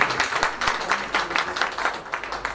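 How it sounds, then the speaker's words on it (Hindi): An audience at a book launch applauds, with steady, dense clapping from many hands filling the hall at close range and continuing without a break. "एक बार हृदय से तालियों के साथ हम अभिवादन करें"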